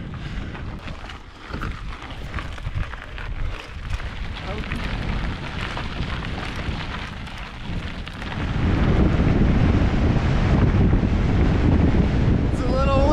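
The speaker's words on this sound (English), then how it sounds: "It's a little windy, right in the face." Headwind buffets the microphone while bikepacking on the Great Divide Mountain Bike Route, a continuous rough roar that swells much louder in the second half, close and unbroken.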